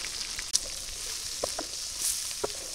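Chopped onion dropped into a pan of fried prawns, a soft steady hiss of frying with a few small pops and clicks, quiet and close.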